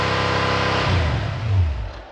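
A hydrogen-powered V8 engine runs at about 4,000 RPM, a loud, steady, close mechanical roar with a low rumble that swells briefly near the end and then begins to fade.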